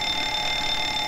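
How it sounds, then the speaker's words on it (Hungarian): A fire alarm test tone in the cockpit of a Boeing 737-800 in Microsoft Flight Simulator X: a steady, continuous electronic bell-like ringing that holds unchanged for the whole second, with no talk. "tűzjelzőrendszert is tesztelem"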